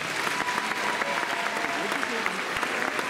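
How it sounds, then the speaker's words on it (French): A crowd at the Miss Picardie 2020 beauty pageant applauds steadily, dense clapping filling the space at a constant loudness for a few seconds with no pauses. "Applaudissements pour le responsable partenariat de l'organisation Miss Picardie, Monsieur Bruno Marchetti."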